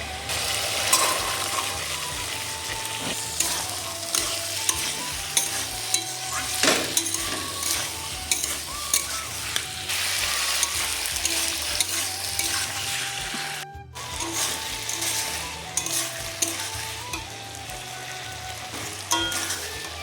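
Broad bean seeds frying and being stirred in a chilli-spiced masala in a pan, a steady loud sizzle with continual scraping and stirring throughout, no talk.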